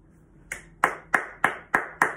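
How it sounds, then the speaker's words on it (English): Children clap for their parents during a home learning celebration, six crisp, evenly spaced claps at a steady rhythm, close and clear with no talking. "Now all of your children are going to turn around and give you a great big round of applause."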